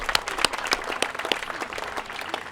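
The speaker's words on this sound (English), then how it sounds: "Let's give them all another round of applause." An audience at an outdoor school district ribbon cutting applauds, with steady, fairly dense clapping from many hands at moderate distance, continuous for the whole span without speech.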